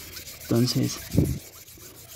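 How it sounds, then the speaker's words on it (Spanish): Sandpaper rubs a wheel rim by hand at the 240 grit stage, a few short rasping strokes close by under brief bursts of talk. "lijamos para ir matando la raya de la lija de la 240"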